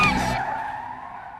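Tires skid sharply as a car crashes in bad weather, one loud screech that cuts off abruptly and leaves a fading hum.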